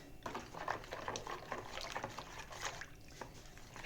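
Ordinary sweet goat milk, about half a litre, poured into bun dough in a home kitchen, giving a steady close liquid gurgle and splash that runs the whole time with no talking.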